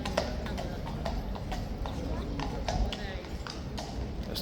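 Royal Guard horses clip-clop on hard ground in a steady run of hoof strikes, with voices talking over the hooves and a busy crowd behind them.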